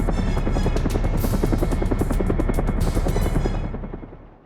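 Helicopter blades in the Syphon Filter video game chop loudly in a fast steady rhythm for several seconds, then fade out quickly at the end.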